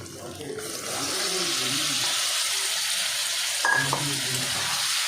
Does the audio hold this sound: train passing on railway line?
no